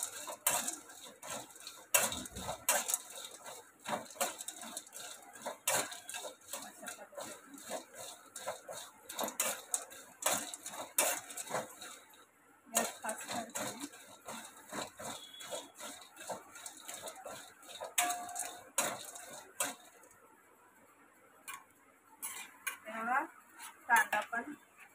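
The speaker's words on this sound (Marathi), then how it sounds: "कांदा पण आधीमध्ये असा हलवायचा व्यवस्थित" A utensil stirs onion as it roasts in a pan, making repeated scraping and clinking knocks against the metal, close and moderately loud in irregular bursts, with brief quieter gaps.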